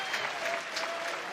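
A college baseball crowd at a 2023 Georgia versus Florida game claps and cheers, a dense, steady wash of applause heard from some distance with no voices standing out.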